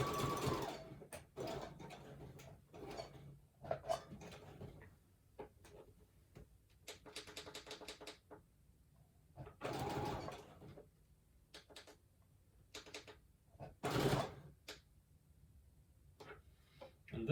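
A sewing machine stitches fabric in short bursts of rapid mechanical whirring and ticking, separated by quiet pauses, close and moderately loud.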